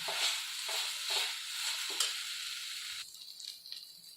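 Chaulai saag with gram flour being stirred and roasted in a kadhai gives repeated rhythmic scraping strokes over a steady sizzle, close and fairly loud, easing off after about three seconds.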